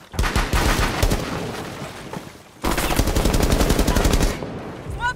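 Rapid automatic gunfire in Rainbow Six Siege rattles in two long, dense bursts separated by a short pause, loud and close, with a brief quieter tail at the end.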